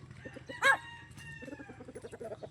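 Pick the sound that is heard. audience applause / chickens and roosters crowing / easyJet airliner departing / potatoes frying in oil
chickens and roosters crowing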